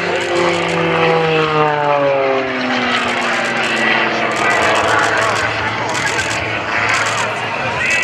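Propeller engine of an aerobatic airplane at the 2014 Manassas Airshow, droning loud and steady while pitch glides downward as the plane pushes up and pulls its nose through a maneuver; a commentator talks over it throughout.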